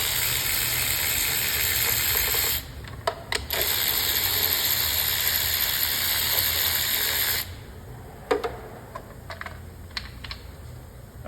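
A ratchet removes 10 mm bolts over the ignition coils of a 2009–2014 Acura TSX with a cylinder 3 misfire: close rapid clicking runs over a steady hiss, broken by a pause and then sparse clicks and taps.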